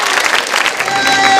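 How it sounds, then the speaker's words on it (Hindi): An audience at a Holi celebration and quiz show in a girls' B.Ed college applauds, a brief burst of dense, close clapping that swells slightly toward the end. "तालियां जोरों से बजाइए"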